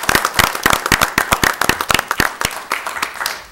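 A round of applause at a village board of trustees meeting, a sparse group clapping in sharp, uneven claps from a modest number of people, close and loud, tapering off after about three seconds.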